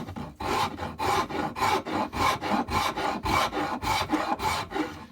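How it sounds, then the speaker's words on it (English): Fine file rasping across the wood of a CVA Frontier rifle stock in steady, even strokes, about ten loud close passes with brief gaps between them and no talking. "And this is the finer file."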